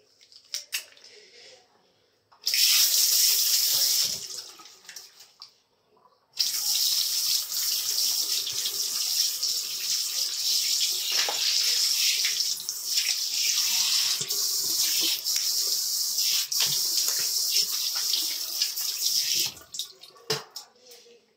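An automatic water faucet in Japan starts and runs, a bright hissing splash that switches on briefly, pauses, then pours steadily for about thirteen seconds before stopping, with faint voices around it.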